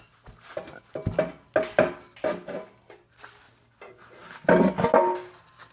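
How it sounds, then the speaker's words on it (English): Pry bar working an oil pan loose from an Atlas 4200 straight-six engine: several close, uneven bursts of metallic scraping and clanking separated by brief pauses. "Let me grab a pry bar and probably a hammer too."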